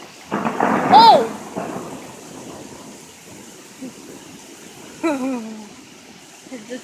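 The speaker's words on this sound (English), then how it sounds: "The thunder though." A sharp crack of thunder in a heavy rainstorm with high winds, then a steady wash of hard rain, with people exclaiming close by.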